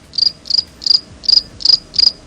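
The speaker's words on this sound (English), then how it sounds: "Exactly, crickets." Crickets chirping in quick repeated bursts, about seven evenly spaced trilled pulses, high-pitched, clear and close, with no other sound around them.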